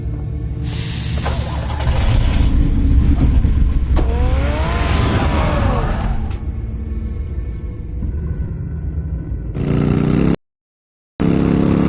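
Batmobile engine from a Batman video game, loud revving and accelerating with rising whining pitch sweeps, a sustained roar that drops away before a brief final burst.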